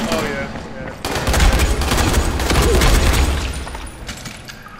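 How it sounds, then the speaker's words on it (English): Rapid bursts of gunfire rattle loudly and continuously in the Dying Light video game, overlapping shots blending into a dense, booming barrage that eases off toward the end. "They're shooting."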